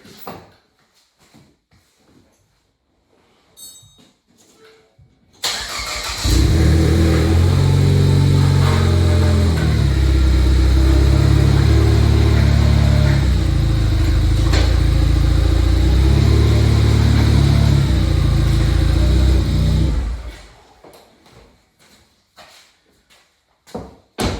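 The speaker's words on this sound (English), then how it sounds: "let's see if this thing goes into gear" A 2013 Ford Escape under transmission repair starts up and runs steadily at idle for about fifteen seconds, a loud close engine drone with low rumble, then cuts off, with quiet handling noises before and after.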